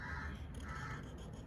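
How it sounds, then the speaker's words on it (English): A crow caws twice outdoors, faint and distant, over a low steady background hum. "Shush, you stupid crow."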